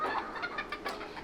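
Serama chickens, a small bantam breed, cluck softly indoors in a quick series of short, close calls with a few brief squawks, fairly quiet and without talk.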